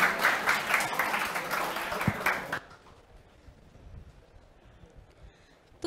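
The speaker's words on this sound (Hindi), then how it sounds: "तो भाई जोरदार तालियां इनके लिए हो जाए।" An audience at a Navratri gathering claps in a brief burst of applause that stops abruptly after a couple of seconds, leaving a quiet room.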